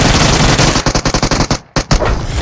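Gunfire in the PUBG Mobile video game: loud, close automatic bursts of rapid shots, a brief gap, then a few more rounds.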